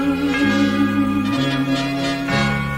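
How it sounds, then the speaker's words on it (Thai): A deep Buddhist temple bell in Thailand rings out three times at a slow, even pace, each strike leaving a long, shimmering hum that overlaps the next. "ระฆังกังวานแววผ่านลมพัด"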